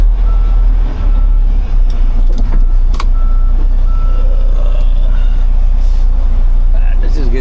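A semi truck that runs poorly idles with a loud, steady low engine rumble while parking, a faint reversing beep showing briefly among the drone, and someone talks over it.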